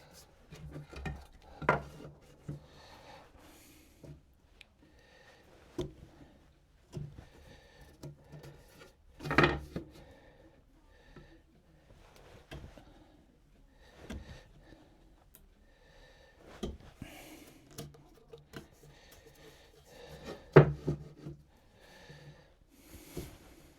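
A hand plane is pushed along a wooden workpiece braced against a planing stop for a dog gate, giving intermittent rasping strokes with soft knocks and pauses between passes, fairly quiet and close.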